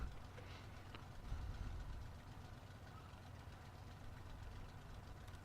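An aircraft engine in the IL-2 flight sim winds down after shutdown, a low steady rumble that swells briefly, then settles into a quiet, even drone heard alone.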